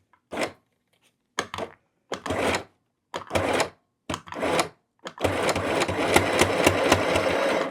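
Several short bursts of a VICTOOL 520PLUS sewing machine stitching through layered quilting cotton, then a long continuous stretch of rapid mechanical stitching, close and fairly loud.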